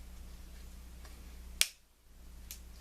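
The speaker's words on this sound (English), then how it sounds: "It's got a nice hiss to it when I first crack it open." A can of Mountain Dew Ginger Snap'd is cracked open, giving one sharp, close pop followed by brief quiet and a faint, low background hum.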